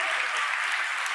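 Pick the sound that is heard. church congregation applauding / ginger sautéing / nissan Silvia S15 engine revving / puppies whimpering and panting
church congregation applauding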